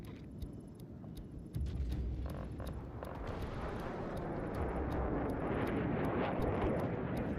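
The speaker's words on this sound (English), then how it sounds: "Artillery barrage ready." Artillery barrage in the video game Delta Force: a sudden heavy rumble rises and holds as a dense, continuous roar of blasts, with faint repeated electronic beeps over the top.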